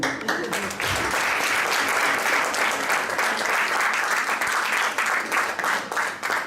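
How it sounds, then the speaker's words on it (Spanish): Sustained audience applause fills a concert hall at a folk album launch concert in Amposta, a dense wash of many hands clapping throughout, loud and close, with no voices standing out. "un aplaudiment"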